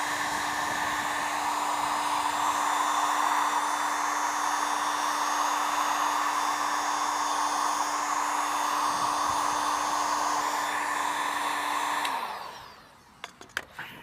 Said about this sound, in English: All right, so I have our heat gun here. I'm just gonna heat this thing up.